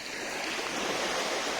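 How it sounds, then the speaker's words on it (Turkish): Water trickling and babbling in a natural stream outdoors near the coast at Seferihisar, a steady, continuous wash of flowing water heard alone with no talking. "Su sesi böyle şırıl şırıl huzur verdi valla"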